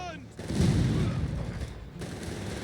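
Artillery fire in the strategy video game Company of Heroes 3, a heavy, rumbling barrage of booms that swells and lingers, with a commentator's voice briefly heard near the start.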